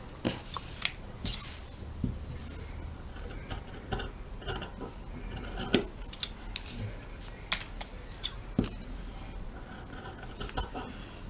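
Scissors held flat on a bench top snip along a pattern in short, irregular clicks and cuts, fairly close, with quiet background noise between the snips.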